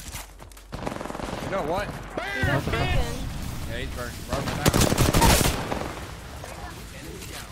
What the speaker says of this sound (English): I'm being shot from across the map, by the way.